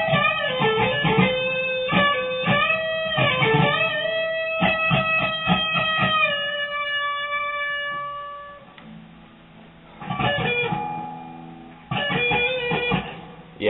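Lead guitar solo, a bent note held and picked repeatedly in quick rhythmic bursts, then a sustained ringing phrase and further picked runs, loud and close with no talking.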